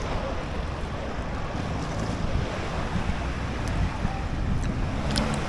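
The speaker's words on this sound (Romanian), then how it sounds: "E destul de agitată marea și cred că e fluxul." Rough sea waves at a Krabi beach at high tide make a constant heavy roar of surf, with wind buffeting the microphone throughout and no voices.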